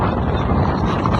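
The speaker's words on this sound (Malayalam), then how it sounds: "നല്ല കാറ്റ്" Strong wind blows steadily across an open outdoor spot in Saudi Arabia, a loud, continuous broadband rush buffeting the microphone with no pauses.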